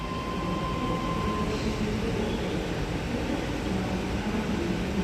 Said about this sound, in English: T105 and its friend departing platform 1 for a Bondi Junction via Central service